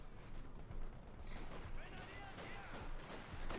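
Dense battle gunfire and explosions from the video game Company of Heroes 2 rumble and crackle continuously, with a commentator talking over the din.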